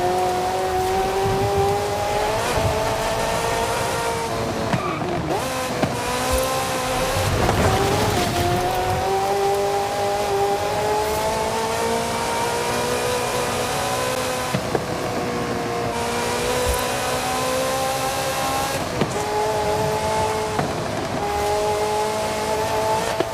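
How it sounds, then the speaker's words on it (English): A Ferrari engine in the racing game Forza Horizon 5 drones steadily and loudly throughout, with rising and falling harmonic revs and shifts, a continuous close engine note with no talking. "A nice 40th birthday present for Ferrari, and anyone lucky enough to own one."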